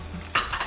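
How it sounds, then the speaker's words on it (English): Garlic and ginger cook in hot oil on medium-high heat for a broccoli and prawn stir fry. A quiet hiss suddenly swells into a louder sizzle with a scrape of stirring and then settles back down. "Okay, I sauteed my garlic and ginger for a minute."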